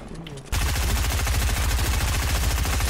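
Rapid automatic gunfire in a video game arena match bursts in after a brief quiet moment and keeps going as a dense, loud, evenly spaced stream of shots until the end.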